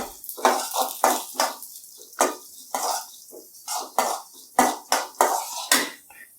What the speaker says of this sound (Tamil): மிளகு வெந்தயம் சேர்த்துக்கிறேன். அடுப்பை நல்லா மீடியம் ஃப்ளேமில் வச்சு நல்லா ஒரு பொன்னிறமாக ஆகிற அளவுக்கு இதை வறுக்கணும்.